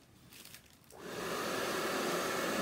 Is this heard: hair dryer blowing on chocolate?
yes